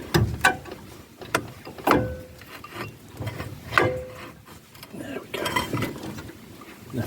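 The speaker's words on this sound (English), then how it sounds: "I'm going to remove the caliper, just compress it gently by hand." Metal clunks, scrapes and rubbing knocks from a Volvo XC90 brake caliper being squeezed by hand and worked free during a wheel bearing job, a string of close, irregular hits and grinding contacts with quiet gaps between them.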